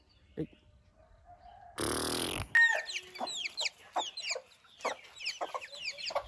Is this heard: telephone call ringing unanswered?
no